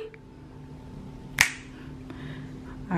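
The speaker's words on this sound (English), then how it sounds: "when I snap my fingers, this room is going to be clean" A single sharp finger snap in a room, crisp and close, standing alone against quiet background hum.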